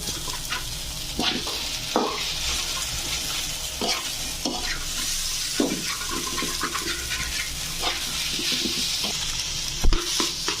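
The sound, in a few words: eggs being mixed in a frying pan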